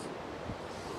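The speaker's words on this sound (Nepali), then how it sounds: "काबिली खोला हो यो" The Kabeli river flows past as a continuous broad rush of water, steady and fairly soft, with no voices.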